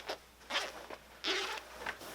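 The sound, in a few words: separating an invisible zipper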